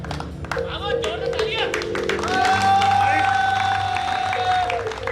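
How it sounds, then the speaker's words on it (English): Applause and clapping from a conference crowd in Goa, with steady, fairly dense clapping, some cheering and voices mixed in, and a sustained whistle-like tone rising partway through. "I need more claps than this, guys."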